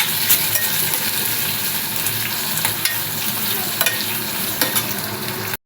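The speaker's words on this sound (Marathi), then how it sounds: "कांदा भाजत आला आहे" Large chopped pieces of onion and ginger roast and sizzle steadily in a pan, a continuous close frying hiss with a few light stirring scrapes and clinks, no voices.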